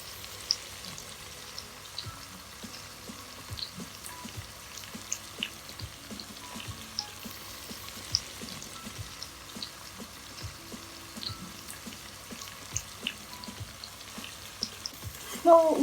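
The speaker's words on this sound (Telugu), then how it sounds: "సో ఉల్లిపాయలు ఎప్పుడైనా సరే బ్రౌనిష్ కలర్ వచ్చే వరకు మగ్గ పెట్టుకుంటే" Onions sautéing in a pan until brownish, a quiet, continuous crackle with scattered small pops and spits across the whole stretch, with no voices.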